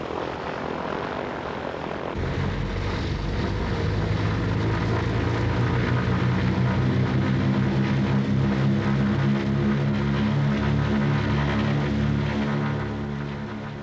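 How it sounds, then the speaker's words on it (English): A Britten-Norman Islander propeller aircraft takes off, its engines droning loud and steady as the propeller tone rises and holds, with no voices over it. "The beauty of the Islander is its remarkable short takeoff and landing capacity"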